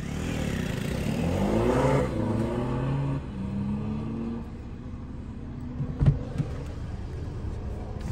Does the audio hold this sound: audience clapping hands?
no